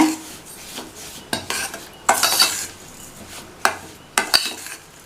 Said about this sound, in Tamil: தேவையான அளவு உப்பு நல்லா மிக்ஸ் பண்ணி விட்டுடலாம்